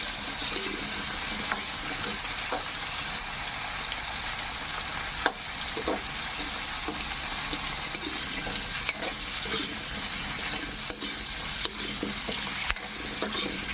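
Goat caldereta with potatoes and carrots sizzles steadily in a pan, with scattered scrapes and clinks of stirring throughout.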